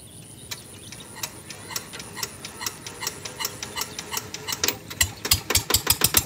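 A tractor engine being hand-cranked to start, with a garu harrow attached behind for deep field work: rhythmic knocking beats that speed up and grow louder toward the end as the engine catches.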